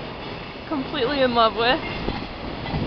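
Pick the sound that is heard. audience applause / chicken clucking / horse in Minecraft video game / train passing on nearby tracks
train passing on nearby tracks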